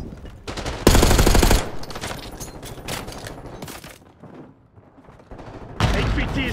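Bursts of automatic gunfire from the video game Call of Duty Black Ops 6, with loud rapid fusillades stopping and starting, a quieter lull in the middle, then a heavy burst again at the end.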